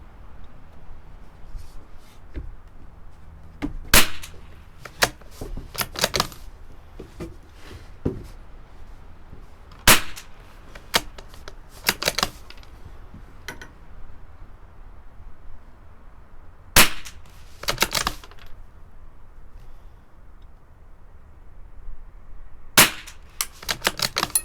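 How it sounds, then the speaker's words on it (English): A Marlin XT-22 rifle fires CCI standard velocity .22 rounds at a 50-yard outdoor range, sharp isolated cracks spaced several seconds apart, some in quick pairs, loud against a quiet background. "Alright, that's the first 5 shots."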